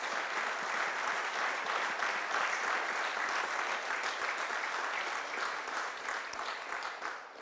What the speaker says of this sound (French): on peut véritablement les applaudir.